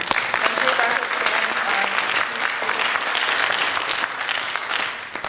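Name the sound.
audience applause at a conference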